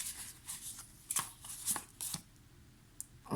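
Tarot cards are drawn and flicked out one after another in soft, close, papery bursts over a low steady background.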